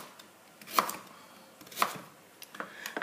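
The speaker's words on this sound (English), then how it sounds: "So I'll cut the vegetables into small pieces" A knife chops vegetables into small pieces on a cutting board: a few sharp, separate cuts spaced irregularly, heard close and fairly quiet with no talking.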